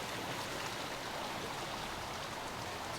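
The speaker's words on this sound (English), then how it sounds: "we stumbled upon this water garden, which, if you see, is pretty great" Water flowing in a water garden at the Hyatt Regency hotel at Lake Tahoe, a steady, close splashing rush like a small stream or cascade that runs without a break and with no voices.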